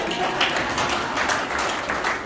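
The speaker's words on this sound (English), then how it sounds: "Good round of applause. Round of applause, right?" A Rotary gathering's audience gives a round of applause, dense and steady clapping that stays even throughout with no break.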